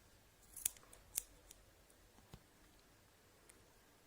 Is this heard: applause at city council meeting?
no